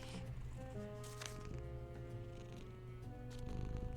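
Milo, a pet cat who enjoys being held in laps, purrs with a soft, low, continuous rumble close to the listener, with faint rustling and a few small vocal sounds mixed in.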